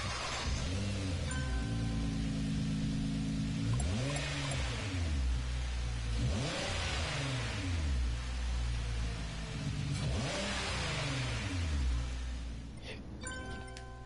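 A twin-turbo LS-powered drag car engine in Gran Turismo Sport revs repeatedly, rising and falling in several sweeping pulls with a steady idle drone between them, loud and alone.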